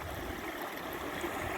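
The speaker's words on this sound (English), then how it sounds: "Water flows through here." Creek water flowing over bedrock, a steady soft rushing and gurgling close by, with no voices.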